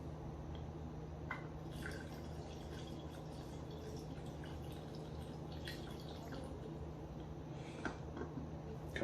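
Rum poured to fill a jar of strawberries and vanilla for strawberry-vanilla arranged rum, heard as a faint, steady liquid trickle with occasional drips and small glassy ticks.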